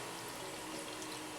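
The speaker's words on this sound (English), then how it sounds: "I'll put 1 cup of water" A cup of water poured into a Worcestershire sauce and cornstarch mixture for poutine gravy, a steady, close, broadband rush of liquid with no break over a second and a half.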